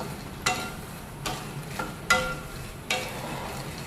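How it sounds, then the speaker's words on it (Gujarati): Makhana (fox nuts) roasting in ghee in a pan, with four evenly spaced scraping stir strokes over a low, continuous sizzle, close up and with no voices. "એક વાટકી મખાના એ ઘીમાં શેકી દો."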